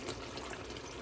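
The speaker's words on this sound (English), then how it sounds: "I'm gonna add a little bit of coconut milk in it" Coconut milk pours into a pot of Jamaican ackee chicken stew as a brief, soft liquid gush, faint and steady throughout the short moment.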